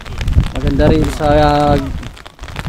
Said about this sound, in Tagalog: Spot natin na abutan tayo ng ulan.